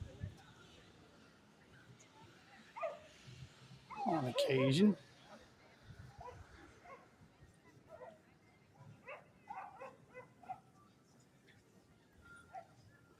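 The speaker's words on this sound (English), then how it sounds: "A lot of people walking their dogs." A dog barks and yips briefly on the Ocean City, Maryland boardwalk in winter, one loud burst standing out amid walking ambience while someone talks throughout.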